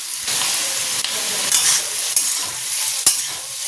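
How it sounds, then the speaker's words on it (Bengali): Food fries lightly in a home kitchen pan with a steady broadband sizzle, broken by a few sharp clacks as it is stirred, with no talking. "হালকা ভাজা ভাজা হচ্ছে"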